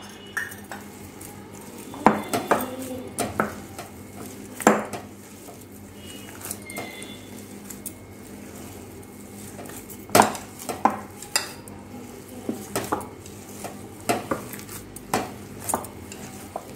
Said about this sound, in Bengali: আবার ভালো করে মিক্স করে নেব।